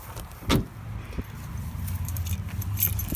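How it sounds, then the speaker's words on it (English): A car key is pulled from the ignition of a 1984 Chevrolet C10 pickup, giving a short metallic jangle of keys close by, followed by faint cab rustling and small clicks, with no talking. "Let me get this key out."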